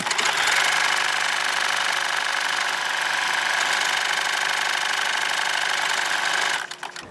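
A home sewing machine running on its own through an automatic buttonhole on sheer fabric, a steady loud motor whir with rapid stitching that holds level for several seconds, then cuts off near the end.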